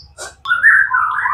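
A competition-ready murai batu giras, a white-rumped shama, sings a close, loud phrase: a brief rattling note, then a sustained sweeping whistle that rises and falls, with faint background noise beneath.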